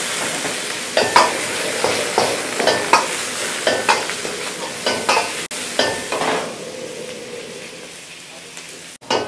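Red chillies and spices frying in a pan for paneer 65: a steady sizzle broken by a run of stirring scrapes and clinks every half second or so, which quiets toward the end before a final knock. No talking.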